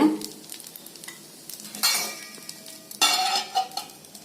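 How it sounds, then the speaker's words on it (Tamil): Oil sizzles as it is poured around the rim of an appam cooking in its pan. Two louder hissing bursts rise over a soft background crackle, with a light clink of metal and no talk. "கொஞ்சமா இந்த ஓரத்துல எண்ணெய் ஊத்தி விட்டுருங்க"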